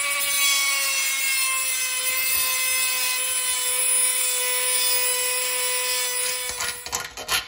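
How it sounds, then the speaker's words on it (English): A rotary tool grinds thick metal during an electric scooter lithium battery upgrade, giving a steady high-pitched whine with a strong harmonic hum that runs loud and continuous, then breaks into uneven scraping bursts near the end. "Maybe I can just grind that out with my rotary tool."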